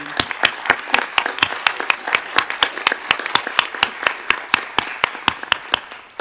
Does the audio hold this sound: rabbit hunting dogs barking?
no